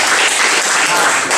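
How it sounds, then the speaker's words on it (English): Dense, loud audience applause at a student-athlete networking talk, a steady wash of many hands clapping throughout with no pauses. "All right, give him a round of applause."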